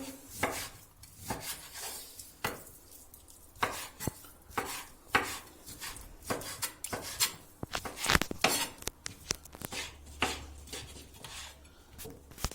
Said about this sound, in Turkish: Şunu da doğrayalım.